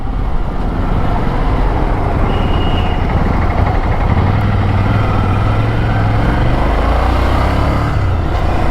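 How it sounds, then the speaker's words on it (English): A Ducati Scrambler 1100 Dark Pro fitted with aftermarket accessories runs its engine and exhaust in a loud, steady drone, its low tone slightly rising and falling as revs change. "this has quite a lot of grunt here and the exhaust note's good"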